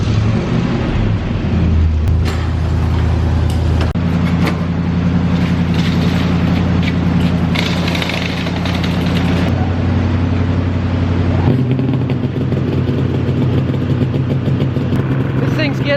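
Chevrolet Scottsdale truck engine running near a shed, a steady loud idle rumble with shifts in pitch as it is moved, while a person talks over it.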